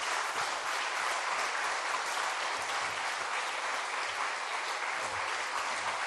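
Congregation at a church Bible conference claps to welcome the pastor, a continuous even wash of applause from many people, moderately distant, with faint murmurs underneath.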